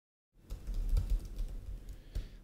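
Keys clatter on a computer keyboard in a quick, uneven run of soft taps, fairly quiet and close, with no one speaking.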